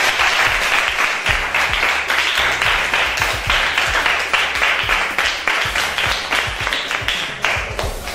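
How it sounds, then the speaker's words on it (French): Children and an audience at a foundation event clap together, loud and close, with dense overlapping hand claps and some distinct individual claps sounding in an irregular rhythm throughout. "est-ce qu'on peut s'applaudir parce que vous êtes des champions?"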